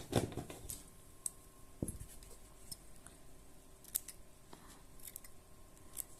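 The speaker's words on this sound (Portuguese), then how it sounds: "Deixa eu cortar essas sobrinhas de tecido aqui" Scissors cut away leftover fabric scraps after a seam is sewn, a few faint, sparse snips over a quiet room with light background clicks and a low hum, no talking.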